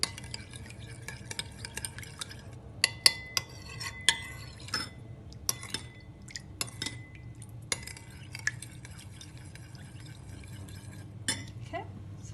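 A spoon stirs a yeast mixture in a bowl, making close, irregular metallic clinks and scrapes against the sides over a low background hum, with no talking.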